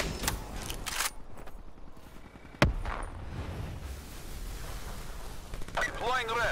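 Gunfire in a hardcore Call of Duty: Black Ops III multiplayer match: rumbling battle noise with scattered shots and one sharp, loud report near the middle, under in-game radio callouts and voices.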